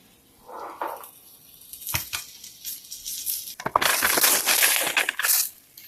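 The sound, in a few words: cutting steak and egg pizza into slices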